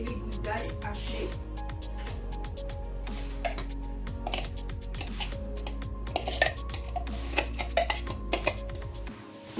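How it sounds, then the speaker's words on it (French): Chicken pieces with chopped onion and garlic cloves being stirred and seared in a pan, with repeated clinks and scrapes of a utensil against the metal close by and a voice talking over it. "je laisse bien saisir, bien mélanger l'oignon et les gousses d'ail hachées"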